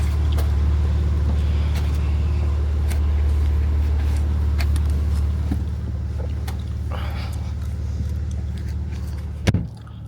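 A car interior on a late-night drive, with a steady low engine and road rumble throughout and a brief knock near the end.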